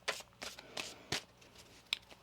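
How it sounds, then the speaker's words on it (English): Tarot cards shuffled by hand in a quiet room, a series of soft, crisp riffling bursts in an irregular rhythm, close and fairly faint, with no talking. "One more shuffle."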